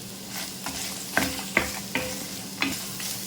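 About five chillies sizzle softly in hot oil in a pan while a spoon stirs and scrapes them, giving several sharp taps against the metal over a quiet frying hiss.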